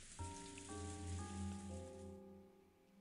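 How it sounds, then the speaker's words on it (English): Steady rain patters on a surface in the visual novel Umineko When They Cry, a continuous soft hiss under sustained tonal music that cuts off near the end. "the sound of the rain was making her sentimental"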